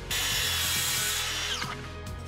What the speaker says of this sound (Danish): Så er jeg sikker på, at saven den ligger mere stabilt, når jeg skærer.